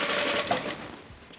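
A Vevor industrial sewing machine stitches fabric for a zippered clutch with a steady, close mechanical whir and rapid needle chatter that slowly fades over a short run, with no talking.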